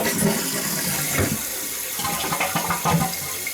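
A toilet flushes right after a plumbing replacement, a steady rushing swirl of water with gurgling draining into the pipe, close and continuous throughout, with no talking.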